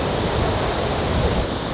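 Glacier meltwater stream rushing through a high mountain valley near Zojila Pass, Ladakh, a steady broadband wash of flowing water mixed with wind buffeting the microphone, continuous with no voices.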